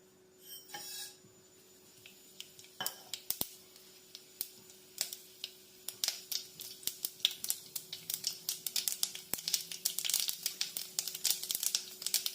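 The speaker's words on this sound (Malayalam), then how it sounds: "നമുക്ക് കടുക് പൊട്ടിക്കാനിടാം." Mustard seeds splutter in hot oil for a Kerala ridge gourd dish, starting as scattered soft pops and building into a dense, quick crackle, faint and close with no talk.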